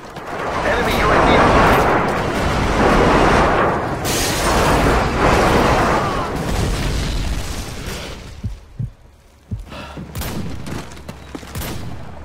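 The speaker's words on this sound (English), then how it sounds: "Friendly airstrike inbound." Airstrike in Call of Duty: Modern Warfare 2, a loud rolling barrage of overlapping blasts and rumbling booms that fades into scattered sharp pops and bangs toward the end.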